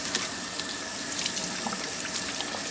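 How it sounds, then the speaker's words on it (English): Warm tap water runs steadily into a sink while jars are rinsed, a continuous close hiss of flowing water with no voices. "just to keep everything nice and clean, I go ahead and rinse this off"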